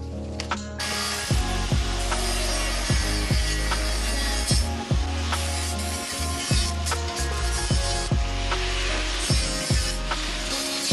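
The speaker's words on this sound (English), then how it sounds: "So next up, we gotta cut some unistrut." Unistrut metal channel being cut during an undercarriage storage box install on a transit bus conversion, a steady loud run of rhythmic, ratcheting cutting strokes with sharp repeated impacts and no speech.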